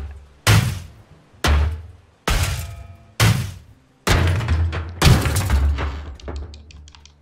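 Hammer blows on a ship hull in Ship Graveyard Simulator, a series of six heavy metallic thuds at irregular intervals, each close and loud with a short ringing decay, the last two blows running into longer clanging tails.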